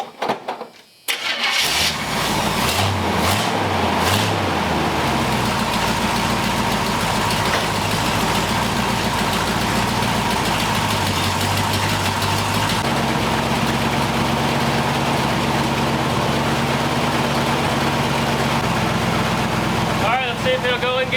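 A big block V8 in an old Squarebody dually truck starts and then idles loudly and steadily up close, its rough running shifting partway through, with a voice heard briefly over the engine.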